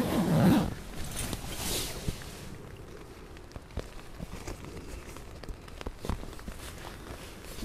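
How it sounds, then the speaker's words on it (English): A zipper drawn closed along a hooped bivi bag outdoors, with a loud rasp at the start followed by softer rustling of the fabric and scattered small clicks and taps. "you can zip it up fully."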